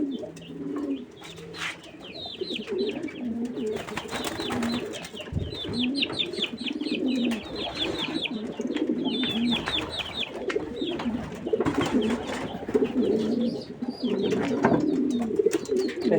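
A breeding racing pigeon coos in soft, repeated low calls in its loft, with other birds chirping and cooing nearby and light fluttering in the background.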